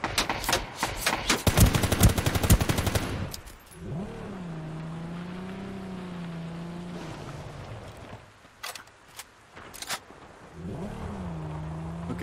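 Gunfire in the Ring of Elysium video game: a rapid, loud automatic burst of shots for about three seconds, then a vehicle engine droning with a few isolated sharp cracks later.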